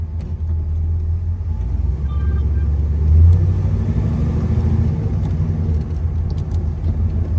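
A muscle car drives along at a steady pace, its deep engine rumble loud and continuous from the cabin, swelling briefly as it accelerates before settling back to a constant drone.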